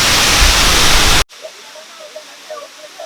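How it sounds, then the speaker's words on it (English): A waterfall at Powai Dam in Mumbai roars as a loud, steady, hissing rush of water. After about a second it cuts off sharply, leaving a much quieter scene with faint distant sounds. "So somehow I tried to manage to go nearby this waterfall"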